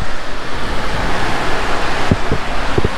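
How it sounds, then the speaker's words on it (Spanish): Sea waves wash steadily behind an abandoned beachfront house, a broad continuous roar of surf mixed with wind noise on the microphone, with a few faint knocks near the end. "Aquí lo que escuchan es el ruido del mar."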